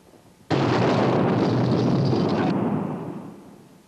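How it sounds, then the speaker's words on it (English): A V-2 rocket explodes in wartime London: one sudden, loud, roaring blast that rumbles heavily for about two seconds and then slowly fades away, with no voices. "London was rocked by a huge unexplained explosion. It was Hitler's most destructive weapon, the V-2 rocket."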